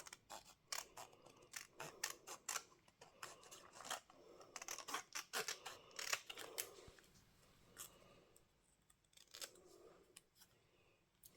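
Scissors snip through paper in a series of quick, close crisp cuts while cutting out a card-making piece, with faint rustling of paper between bursts, fading near the end.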